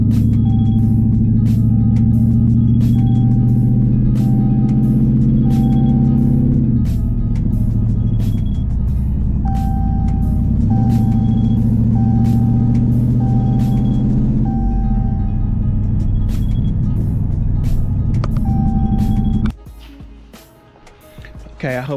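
Engine hum of a Hemi-engined car driving steadily, with a repeating electronic beep and ticking on top; talk can be heard over the drive.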